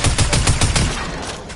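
Fortnite Battle Royale hand cannon gunfire, a rapid burst of about six loud, close shots in a quick, even rhythm, then a fading echoing tail.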